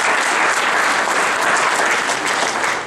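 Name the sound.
audience applause for a candidate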